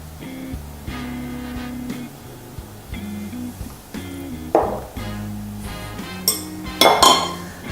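Bread pudding ingredients with vanilla extract stirred together in a bowl: a utensil clinks and scrapes against the dish in an irregular run of knocks, with sharper clatters near the end, close and fairly loud, with no talking.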